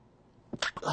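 A single sneeze bursts out after a quiet moment, close and fairly loud, with a sharp inhale-like onset and a breathy tail.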